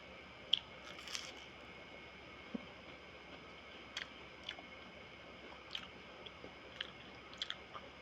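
Close, quiet chewing of Shanghai tofu, with sparse soft bites and crunches spread over several seconds in a hushed room and no voices.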